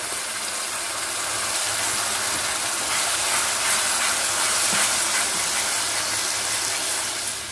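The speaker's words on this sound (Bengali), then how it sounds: "এবারে আমি মশলার পেস্টটা দিচ্ছি" Spice paste hits browned onions in a pan for a Katla posto kalia fish curry, giving a loud, steady hiss that holds evenly throughout, with no voices.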